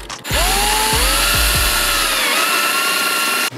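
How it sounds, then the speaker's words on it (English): A step (uni) bit drills a hole in a panel on a GR86 brake light, the power drill whining steadily loud and close for about three seconds with a few knocks as it bites, then stopping. "So I'm actually just gonna drill a hole right here."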